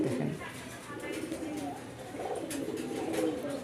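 Pigeons of fancy breeds such as Gorra, Golla and Lahori coo softly in a loft, a low murmuring coo repeating steadily through the clip, close by.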